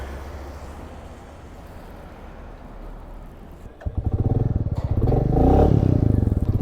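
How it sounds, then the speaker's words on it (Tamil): A motorcycle sets off on a snowy mountain road near Manali. A low idle rumble gives way to a clattering engine that grows louder and revs up as the bike pulls away, carrying two riders. "கிளம்பிட்டோங்க நம்ம பைக்கில்"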